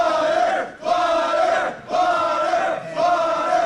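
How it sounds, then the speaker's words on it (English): A wrestling crowd at a live show chants in loud rhythmic bursts, each swell of voices rising and dropping in a steady repeating pattern that fills the hall. "We hear who the crowd is firmly behind here tonight."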